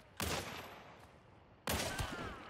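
Rifle shots in the video game Hunt: Showdown, two sharp loud cracks about one and a half seconds apart, each trailing off in a short echoing tail, with no talking.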